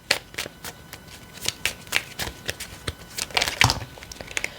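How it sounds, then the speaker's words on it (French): Tarot cards are shuffled and handled up close, a quiet series of crisp riffling flicks and papery snaps in irregular bursts with no talk over them. "2 autres cartes, s'il vous plaît. Là, ça fait beaucoup de cartes."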